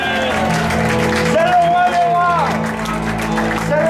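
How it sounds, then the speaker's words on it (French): A church congregation applauds the Lord together, steady massed clapping sustained throughout under a singing or speaking voice and music. "Est-ce qu'on peut applaudir le Seigneur pour chacun?"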